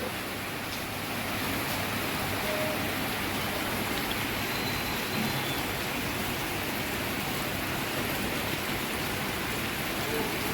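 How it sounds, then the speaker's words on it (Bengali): Steady rainfall hisses evenly throughout, a broad wash of falling drops without talk. "বৃষ্টির শব্দ শুনতে পাচ্ছেন"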